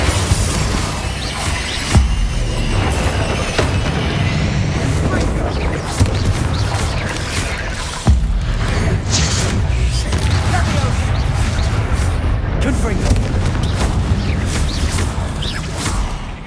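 Spell explosions and magical combat in the video game Hogwarts Legacy form a dense, continuous wash of booms and whooshing blasts, loud throughout, with a few sharper hits standing out and voices casting spells over the top.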